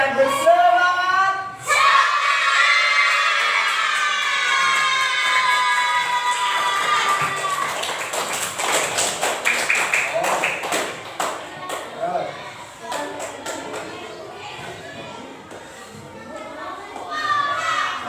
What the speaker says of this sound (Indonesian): Dengan teriakan yang sangat semangat.